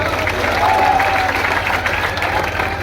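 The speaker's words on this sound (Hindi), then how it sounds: "एक बार उमराव सिंह जी के लिए ताली बजाओ।" A crowd at a Ganesh Chaturthi poetry gathering (kavi sammelan) in Kishangarh Renwal claps for a police officer, producing a steady, dense wash of applause over a low hum that keeps going for the whole stretch.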